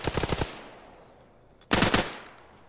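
Two loud close bursts of machine gun fire in Arma, a rapid rattle, a pause with fading echo, then a second longer burst.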